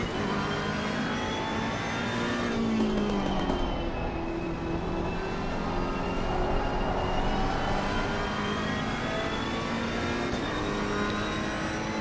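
A race car accelerates on a warm-up run up to turn 1, its engine droning loudly and steadily with rising, shifting tones, close and continuous with no talk.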